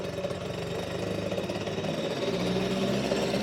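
A Suzuki FZ50 moped engine runs close by, its small single-cylinder putter rapid and even, settling into a steady idle that grows slightly louder toward the end.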